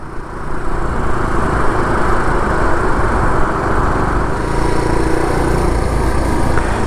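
A SYM Symba small-capacity motorcycle, a Honda Cub C90 replica, is heard from the rider's position, its engine a steady loud drone mixed with wind rush, with no talk.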